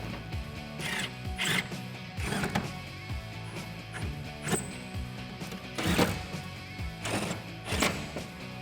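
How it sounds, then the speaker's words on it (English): A ratchet driving T30 Torx bolts into the brackets of a BAKFlip FiberMax tri-fold tonneau cover on a Toyota Tacoma, heard as repeated short mechanical clicking bursts at a close distance, spaced evenly with pauses between strokes. "Grab your T30 Torx and tighten these down."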